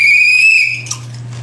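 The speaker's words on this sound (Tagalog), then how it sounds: "Pito. I-blow mo." A whistle gives one shrill, steady blast lasting under a second and is then cut off, followed by a faint background hum and a small knock.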